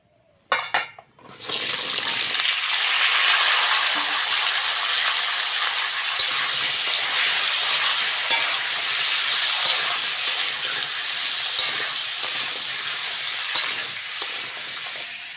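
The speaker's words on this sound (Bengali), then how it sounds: "এবার পুঁই শাক আর আলুটা ভেজে নেবো তেলের মধ্যে" Malabar spinach and potato pieces fry in oil, producing a loud hiss that bursts up as they go in and settles into a steady sizzle, with stirring clicks and scrapes.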